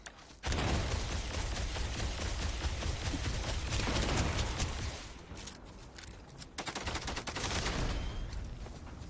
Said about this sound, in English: I love this gun, but look how fast this fucking empties.